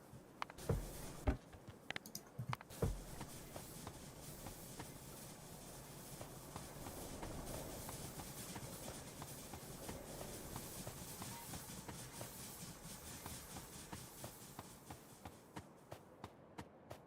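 A train runs on tracks in the video game Factorio, giving a faint steady rolling rumble with irregular clicks, sharper ticks early on.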